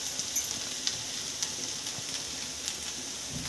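Sabudana khichdi stirred in a pan, a soft steady sizzle with faint scraping clicks scattered through, quiet and close, with no voices.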